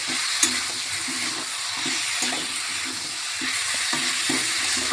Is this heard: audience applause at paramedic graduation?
no